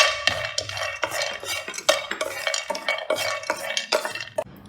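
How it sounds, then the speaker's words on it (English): Almonds and other nuts dry roasting in a pan, tossed with a spatula so they rattle and scrape against the metal in quick, uneven bursts, close and fairly loud, no oil sizzle and no voices. "Now I have dry roasted all the nuts."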